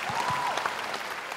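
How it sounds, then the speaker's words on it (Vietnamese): An audience at a dance competition's final gala in Vietnam bursts into loud, dense applause, with a whistle cutting through the clapping in a short burst. "Xin một tràng pháo tay nồng nhiệt cho hai bạn thí sinh."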